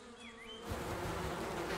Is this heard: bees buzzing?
yes